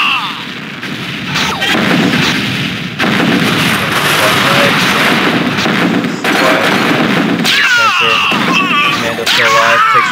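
Commando gunfire and heavy explosions in a real-time strategy game, dense continuous shooting and booms throughout, loud, with sharper zapping effects near the end.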